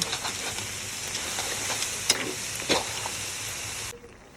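Noodles and egg stir-fry in a hot pan for a curry-powder crab dish, giving a constant close sizzle broken by scraping stirs and a couple of sharp utensil clacks before the sound stops.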